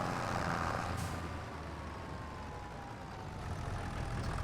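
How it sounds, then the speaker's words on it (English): A tractor in the farming game Farming Simulator 25 chugs along with a continuous, fairly loud engine drone and rumble, dipping slightly midway and then building again, with no voices over it. "Little tractor."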